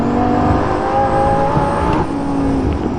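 Lamborghini Gallardo LP550-2 engine pulling hard at night, a loud continuous howl with steady rising tones held close throughout, no voices over it.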